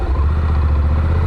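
A Honda CTX motorcycle with automatic DCT transmission pulls away in gear, its engine a loud, close, steady low rumble over a brief moment.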